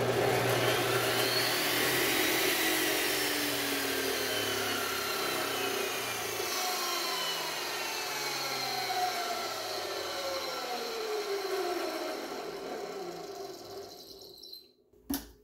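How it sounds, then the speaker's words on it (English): A saw starts up through a soft starter on an extension cord, its motor ramping gradually rather than snapping on, with rising and falling tonal sweeps over a loud, steady machine roar that runs nearly fifteen seconds before cutting off. "you'll hear that here with just starting the saw up on its own"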